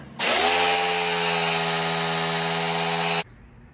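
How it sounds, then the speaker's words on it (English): A Harbor Freight jigsaw cuts a hole in a custom subwoofer speaker box, a loud, steady buzzing whine running for about three seconds close up, then stopping abruptly. "First hole. Not bad for a jigsaw, Harbor Freight."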